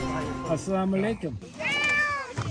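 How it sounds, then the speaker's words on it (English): A cat in the Iraqi marshes gives several drawn-out, rising meows, close and fairly loud, with a person's voice mixed in around them during a boat trip. "That's a happy cat."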